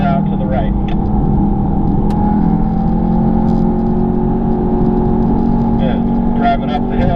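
An Audi TTS on a race track under steady throttle, a loud continuous engine drone with steady tonal harmonics that stays even throughout, heard from inside the cabin, with an instructor's voice talking over it.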